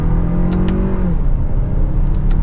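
A 2023 Lexus RX350's 2.4-liter turbocharged four-cylinder pulls hard in sport mode, a steady close engine drone that climbs in pitch for about a second, then eases back into a constant rumble.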